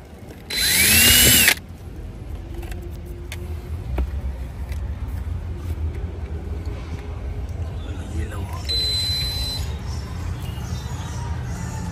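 A power drill bores through a Toyota Hilux panel during a rear aircon vent installation, a loud whining burst lasting about a second, followed by quieter workshop noise and clicks while someone talks.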